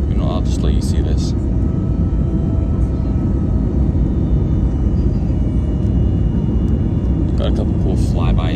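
A British Airways airliner on flight BA 621 lands at London Heathrow, its engines giving a steady, heavy rumbling roar from inside the cabin, with brief higher whines near the start and end.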